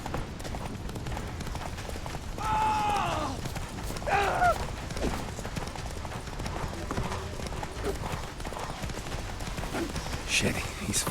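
Geralt's horse Roach galloping in The Witcher 3, a steady clip-clop of hooves under combat music, grunts and shouted dialogue.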